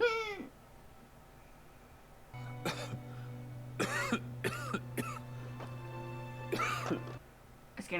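Several short, harsh coughing bursts close by, spread over a few seconds with a steady low hum beneath.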